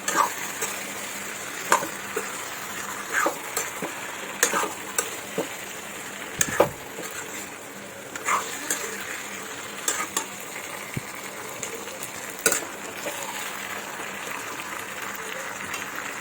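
Potatoes fry and sizzle in a pan during home cooking of an apple chicken dish, with a steady hiss broken by repeated clinks and scrapes of a spoon stirring against the metal, close and clear.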